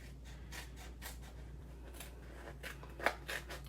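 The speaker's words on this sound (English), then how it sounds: "we're just gonna take our scissors and cut it all off" Scissors snip through paper and gold foil, trimming around an adhesive sticker for a stamped card craft; a series of quiet, irregular cuts and rustles, with a couple of sharper snips near the end, close and alone.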